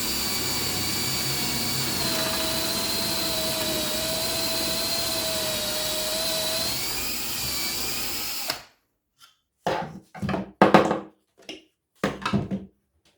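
A power drill whines steadily for several seconds drilling dowel holes through a Parkside dowel jig into two joined pieces of wood, then stops and is followed by a series of short bursts of drilling.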